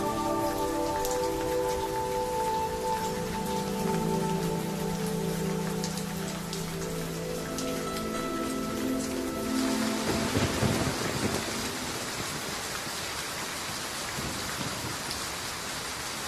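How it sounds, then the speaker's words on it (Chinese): Heavy pouring rain hammering steadily with rolling thunder, plus a low tonal musical drone that stops partway through, leaving dense rain and a thunder rumble alone. "尤其是这样的瓢泼暴雨。"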